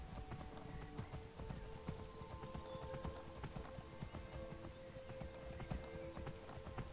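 Steady rapid hoofbeats of a galloping horse in Skyrim continue throughout, with a sustained tonal hum underneath, fairly loud and unbroken.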